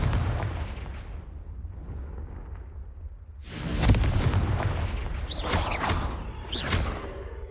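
Fire spell explosions in Hogwarts Legacy: a low rumbling boom swells up, followed by two sharp, bright blasts with crackling tails, loud and close with no talking.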